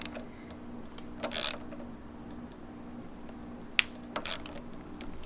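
Bolts being tightened on billet clip-on race bars of a Honda Grom motorcycle, with a few brief ratcheting clicks and mechanical ticks spread over a low steady hum, fairly faint and close.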